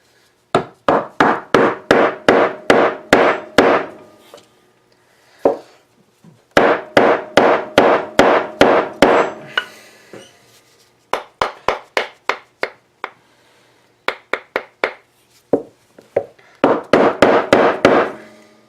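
Wood struck repeatedly with a hammer while seating a blank on a lathe for top turning: sharp, close knocks in quick rhythmic bursts of about ten blows, separated by short pauses, with a few isolated taps between.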